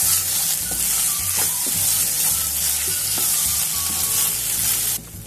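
Ketchup being stirred and mixed into a chicken filling in a pan, a steady sizzling hiss with repeated scraping strokes of the spoon, loud and close throughout, no talking.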